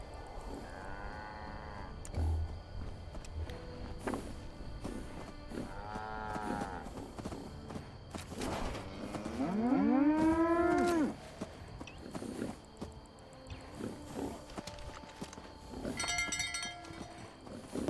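Cow in the Fallout 76 video game mooing several times, with a long, loud low moo in the middle among shorter calls and light game ambience.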